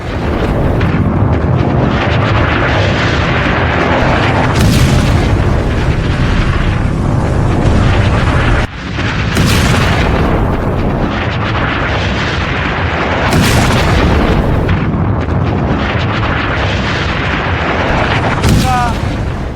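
Repeated heavy booms from naval sea mines detonating against ships in an AI-generated depiction, dense and loud throughout with a brief break midway and sharp blasts recurring every few seconds.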